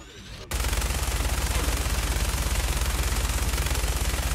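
Sustained rapid automatic gunfire in the Fallout 4 video game, a loud, dense, evenly paced burst of shots that starts abruptly after a brief moment and continues without a break.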